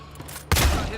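A single sharp gunshot cracks out in Avowed, a loud, close blast that booms with a low thump and trails off into a brief echo after quieter background sound.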